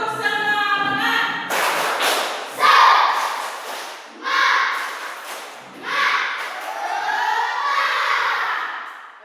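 Schoolchildren in an Indonesian classroom perform the tepuk semangat spirit clap, several loud rhythmic bursts of group clapping and chanting voices in sequence, filling the room with the teacher's voice nearby.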